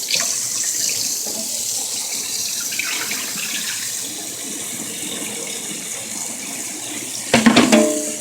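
Tap water runs steadily into a sink while rice is rinsed, a continuous splashing hiss at moderate level, ending with a few louder clattering splashes near the close.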